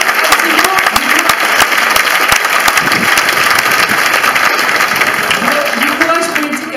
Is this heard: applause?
yes